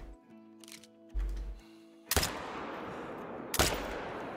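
Two sharp, loud rifle shots about a second and a half apart in the hunting video game Call of the Wild, each with a long rolling echo. Quieter thuds and clicks come before them.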